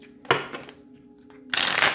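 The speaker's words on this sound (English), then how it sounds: "last shuffle." Tarot cards are shuffled close up in two quick papery riffling bursts, a short one followed by a longer, louder one, with a faint hum underneath.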